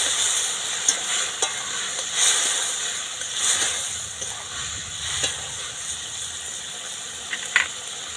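Ginger paste frying in a pan with chilli powder for a fig curry, a close continuous sizzle with faint scraping and occasional ticks as it is stirred, no talk.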